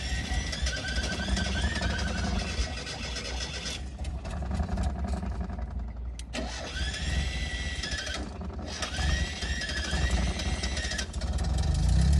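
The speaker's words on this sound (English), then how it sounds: "Let's hope it starts back up again." Mazda Miata race car engine cranking and catching, running loud and rough with several revving surges and a brief stumble, heard close up with no talking.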